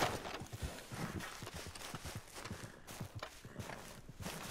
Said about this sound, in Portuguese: Olha esse cavalinho.